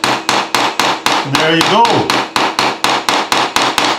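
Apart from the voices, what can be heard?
hammer tapping a toy car axle pin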